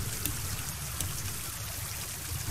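Water flows in a stream inside the horror game Wardwell House, a steady close rushing trickle with scattered droplet splashes, continuous and alone.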